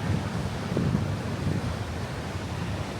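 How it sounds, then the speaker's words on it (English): Rough, turbulent ocean waves churning at the Restless Sea along Pebble Beach, a steady broadband wash of surf mixed with wind buffeting the microphone, continuous and fairly loud with no talking. "one of the most turbulent sections of waves in Pebble Beach"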